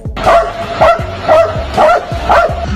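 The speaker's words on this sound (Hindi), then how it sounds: "देखो ये कुत्ता भाई सामने वाले दूसरे कुत्ते पर बेवजह भौंकते ही जा रहा है" A dog barks repeatedly at another dog, five loud, evenly spaced bow-wow barks in quick rhythm, close to the recorder, with no talk over them.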